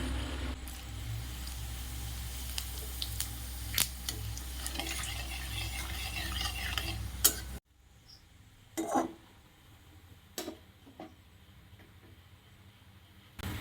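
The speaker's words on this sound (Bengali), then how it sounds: "এবার ওই তেলের মধ্যে একটু গোটা জিরা একটা শুকনো লঙ্কা ফোড়ন দিয়ে দেবো" Whole cumin seeds and a dried red chili hitting hot oil for tempering, a steady sizzle and stirring for several seconds, then quieter with occasional scrapes and clinks.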